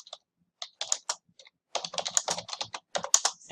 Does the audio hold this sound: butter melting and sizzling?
no